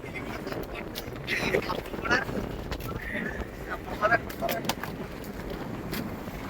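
Strong sea wind buffets the microphone aboard a fishing boat, a low gusty roar that swells and dips across the stretch, with people's voices faintly mixed in.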